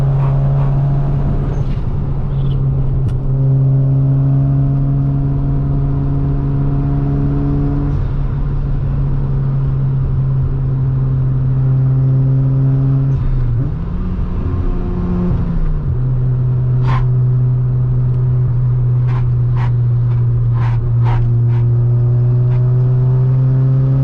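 A Mazda RX7 FD runs fast along a road on the way to a car meet, its loud, steady engine drone rising and dipping as it revs and shifts, with no talking.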